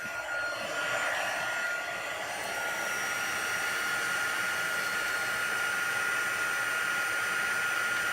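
A heat gun blows a steady, loud whooshing roar with no pauses while it melts embossing powder on a rubber-stamped butterfly image, holding one even tone throughout.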